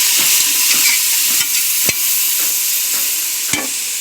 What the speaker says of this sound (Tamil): வெங்காயம் நல்லா வணங்கிடுச்சு. இப்போ வந்து நம்ம தக்காளி கொட்டிடலாம்.